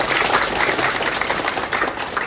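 Short burst of crowd applause in an MMA training gym, dense and fairly loud, lasting about two seconds.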